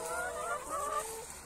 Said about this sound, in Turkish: Tavukların bir kısmı buraya geldiler, otluyorlar.